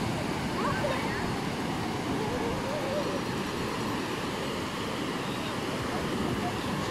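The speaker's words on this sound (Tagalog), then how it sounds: "lalakas ng alon yan" Surf rolling onto the shore at a Northern Luzon surfing beach, a steady broadband wash of waves roaring continuously with wind buffeting the microphone throughout.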